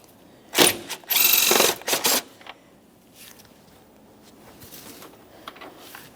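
An 8mm ratchet loosening the battery hold-down bolt on a 2004-2008 Ford F-150, heard as three loud close bursts of rapid clicking in the first two seconds, then faint handling noises.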